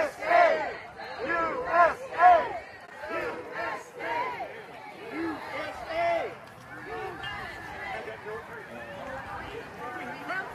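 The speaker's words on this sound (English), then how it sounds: "here were protesters marching in Charlotte, North Carolina, as part of the hands-off movement" Protesters marching in Charlotte, North Carolina, chant in rhythmic unison, their voices rising and falling in repeated call-like bursts, with crowd chatter mixed in as the chanting loosens toward the end.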